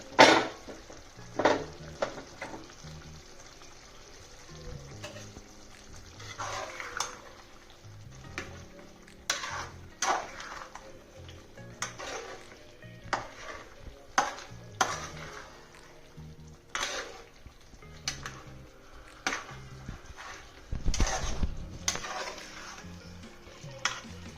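A spoon stirs country chicken curry after coriander is added, making repeated scraping and clinking strokes against the pot in an irregular rhythm over a faint simmering sizzle. A couple of heavier knocks come near the end, and nobody speaks.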